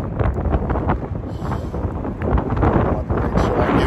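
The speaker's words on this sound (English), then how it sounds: "So windy down here. It's super windy." Strong wind buffets the microphone in loud, irregular gusts in downtown Cleveland, Ohio, a rough, blustery roar that continues throughout.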